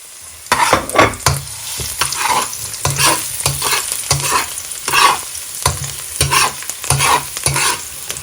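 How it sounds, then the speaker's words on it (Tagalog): Garlic frying in a pan is stirred briskly, giving a loud, steady sizzle broken by repeated rhythmic scrapes and clacks of the utensil against the pan, close up with no one speaking. "Haluin mo na yung bawang."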